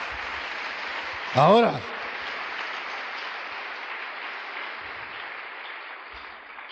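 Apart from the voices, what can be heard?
congregation applauding in church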